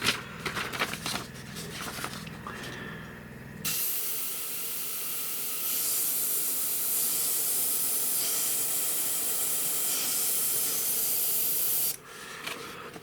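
A Fengda FE-186K airbrush sprays paint in a loud, steady hiss lasting several seconds, preceded by softer handling noises and short bursts, then cutting off abruptly.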